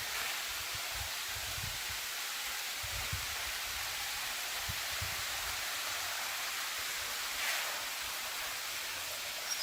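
Heavy rain pours steadily at a Mariamman temple near the Perumal Kovil Pathy check dam close to Coimbatore, a constant dense hiss with no pauses and faint low rumbles beneath.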